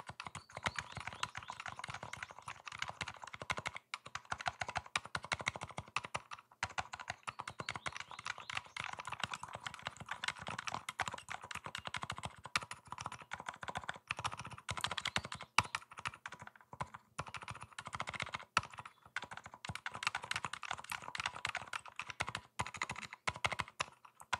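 Cherry Blossom mechanical keyboard switches being typed on quietly and steadily, a continuous stream of soft, fast clacking keystrokes with no talking.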